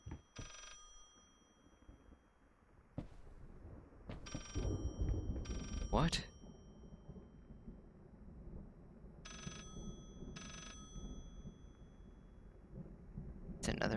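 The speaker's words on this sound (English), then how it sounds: "Another phone, I think." A telephone rings in the horror game Layers of Fear, heard as several short bursts spread across the clip over a low rumbling ambience, with a brief spoken remark near the start.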